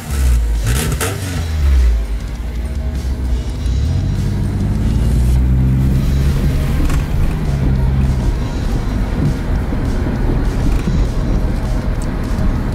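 A Toyota Previa van drives up a street, its engine rumbling and revving loudly from inside the cabin, with a rising engine tone that settles into a steady road drone and occasional bumps.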